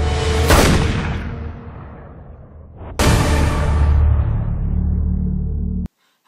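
Two heavy gunshots from the James Bond film Skyfall ring out about three seconds apart, each a loud sharp crack followed by a long rolling decay, then the sound cuts off abruptly.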